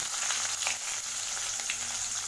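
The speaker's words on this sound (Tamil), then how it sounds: "இப்போ இது கூடவே நம்ம கட் பண்ணி வச்சுருக்கிற வெங்காயத்தை சேர்த்துக்கலாம்." Onions fry in oil and ghee with cinnamon, cloves and cardamom for a mutton vermicelli biryani, giving a steady, dense sizzle with faint stirring scrapes, close and continuous with no voice.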